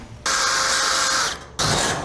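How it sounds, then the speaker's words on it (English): A power drill bores through a metal body mount on a mini Jeep, running in a steady high whine for about a second, stopping briefly, then starting again close up. "Once we have the main hole drilled, we're gonna drill this top hole just a little bigger"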